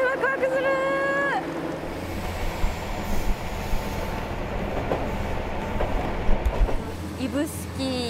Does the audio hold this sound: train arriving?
yes